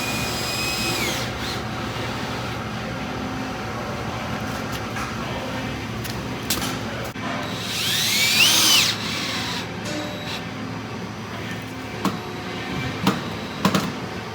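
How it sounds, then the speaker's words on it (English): Cordless drill driving drywall screws into plastic parts of a table top chain conveyor, a steady whirring drone with a louder surge midway and a few sharp clicks and knocks near the end. "I'm just gonna screw this in here and kind of work my way back"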